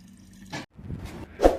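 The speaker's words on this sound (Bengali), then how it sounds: "মাঠে যাওয়ার আগে জল ভরে নিচ্ছি" Water running briefly from a tap into a bottle or container, with a few splashy, dripping bursts close by.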